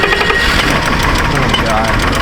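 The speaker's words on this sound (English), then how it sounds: "let's see if the old girl's gonna start now" An old beater car's engine turns over and catches, loud and close, with rough rattling and a broad throaty roar that runs through the whole stretch.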